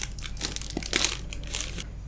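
Plastic wrapping crinkles and crackles around a newly unboxed Sony Xperia XA2 smartphone, with busy irregular bursts of rustling close up and no talking.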